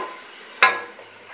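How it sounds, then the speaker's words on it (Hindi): Tomatoes hit the pan with bottle gourd (loki) bharta: one sudden, sharp sizzling burst, then a quieter frying hiss that fades over a second. "टमाटर शामिल करने के बाद इसको अब मज़ीद थोड़ी देर भूनेंगे 2 मिनट तक।"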